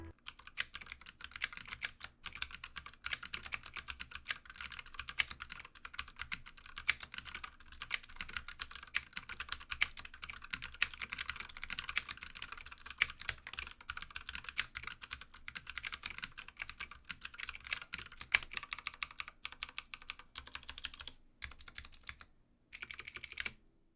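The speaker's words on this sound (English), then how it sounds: "I'll do a sound test for you guys of the Razer green switches on the Ducky One 2." Fast, continuous typing on a Ducky One 2 keyboard with clicky Razer Green switches and double-shot PBT keycaps: a dense, steady stream of crisp keystrokes, close and alone, with a short pause near the end.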